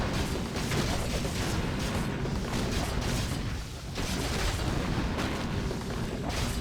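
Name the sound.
rifle gunfire in Warcraft III, from a video game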